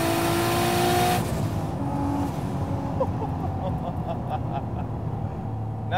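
A single-turbo 1991 Acura NSX engine screams at high revs in second gear, then drops off sharply and settles to a lower drone inside the cabin, with a few faint pops as it decelerates.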